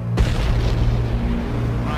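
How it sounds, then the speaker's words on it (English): A deep, rumbling boom erupts after a brief moment, then a sustained roar of fire and low thunder fills the rest, loud and close: a blowout explosion and fire on the Piper offshore oil platform. "Explosion fire on the Piper platform."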